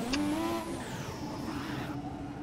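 A Formula 1 car in the F1 2017 video game revs during burnouts, its engine tone sweeping down and then holding steady, heard from the cockpit over a constant rumble.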